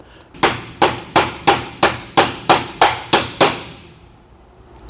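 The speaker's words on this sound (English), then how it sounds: "take a hammer and tap it into place" Ten evenly spaced, ringing hammer taps drive a bushing down into a 3/4 inch socket opening, each strike sharp and close with a short metallic decay, at a quick steady rhythm before falling quiet.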